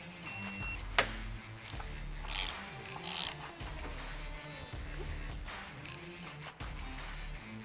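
A torque wrench ratchets and clicks while tightening the oil pan drain plug on a C8 Corvette Z06 with an LT6 engine, with close mechanical clicking and scraping and a sharp click near the start.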